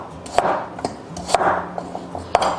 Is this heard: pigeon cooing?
no